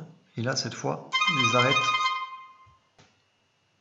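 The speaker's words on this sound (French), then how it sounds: "Désolé pour le téléphone, mais ça c'est le problème du direct hein," A telephone rings loudly with a steady tonal ring lasting about a second and a half during a live SketchUp screen recording, overlapping someone speaking French before and during the ring.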